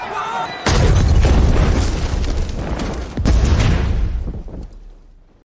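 A suicide bomb going off in the middle of a crowd in a film scene, a loud deep blast roaring across the clip with a second heavy burst partway through before the rumble fades out.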